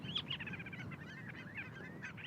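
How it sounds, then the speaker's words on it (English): Geese and other birds honk and call repeatedly across springtime tundra, a busy overlapping chorus of near and far cries over a low outdoor rumble. "We love the sound of the birds."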